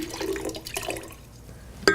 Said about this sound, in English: add sugar and water